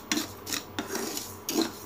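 Sugar for caramel is stirred and scraped in a kadai, giving soft rasping, rubbing strokes in a few slow sweeps. They sound close but faint, with no voices.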